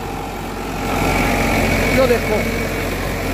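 A running Eicher 551 tractor engine churns out a steady low, rough drone during the first ploughing of a field, continuous throughout with someone speaking over it.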